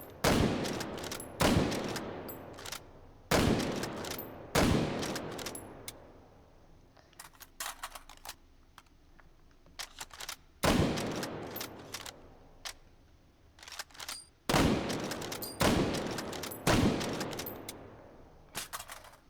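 Bolt-action rifle shots ring out in the virtual reality shooting game H3VR, loud sharp cracks fired singly and in quick pairs with short echoing tails, separated by gaps of handling noise.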